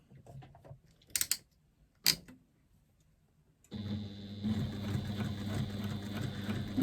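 A sewing machine runs a steady, continuous basting stitch around the outside edge of a stiff interfaced bag panel at a narrow seam allowance, starting after a few brief handling clicks and a short pause.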